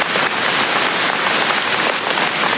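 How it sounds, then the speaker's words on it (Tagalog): Heavy rain falling during a typhoon in the Philippines, a steady, dense hiss of downpour that stays loud and unbroken throughout, with no voices. "May typhoon na naman dito sa amin, kaya ayan, ang lakas ng ulan."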